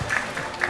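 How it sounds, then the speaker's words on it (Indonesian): Brief, scattered applause from participants at a computational thinking workshop session, soft and fading quickly. "Tepuk tangan buat kita semua."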